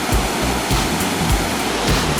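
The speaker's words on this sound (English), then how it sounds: "And there's a waterfall." Kakabeka Falls in Ontario roars as a continuous, loud broadband rush of falling water, close and steady, with low rumbling surges and no talking.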